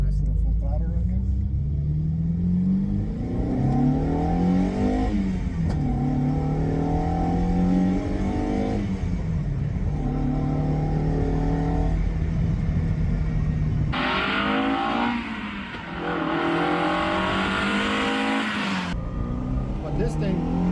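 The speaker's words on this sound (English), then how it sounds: "let's give you guys a nice little full throttle right here" Mercedes 190E Cosworth engine run at full throttle, revving up in repeated rising sweeps that drop back between pulls, loud and close throughout.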